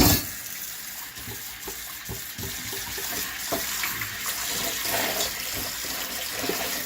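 Hot water pours steadily from a tap, a continuous hissing splash with small gurgles, close and even throughout, with no voices.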